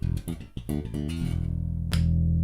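A Precision electric bass is played with the tone rolled off and the booster switched off: a quick run of plucked notes, then a sustained low note ringing loud and close.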